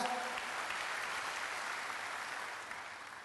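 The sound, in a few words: church congregation applause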